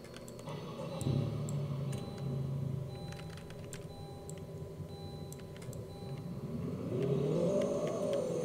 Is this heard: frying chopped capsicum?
no